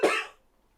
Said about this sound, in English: If I cough one more time